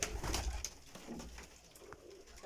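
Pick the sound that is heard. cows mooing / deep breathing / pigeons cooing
pigeons cooing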